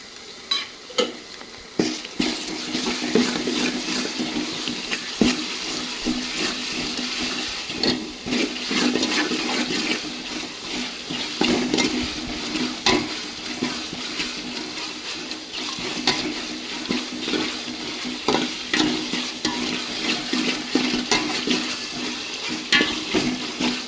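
Ginger garlic paste fries for a mutton gravy, giving a loud, continuous sizzle and crackle with a rushing, watery hiss that carries through from start to finish, with no talking.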